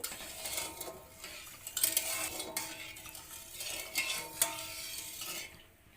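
Milk is stirred in a pot as it comes to a boil, a soft scraping and clinking of a spoon against the pot over a low bubbling hiss, fairly quiet and close.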